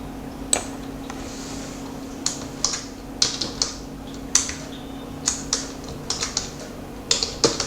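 Keystrokes on a computer keyboard while text is entered into a text box, a sparse irregular run of distinct, close clicks over a quiet room background.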